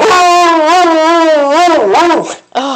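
A coonhound howls in a long, wavering, tuneful cry lasting about two seconds, then breaks into a shorter rising yowl.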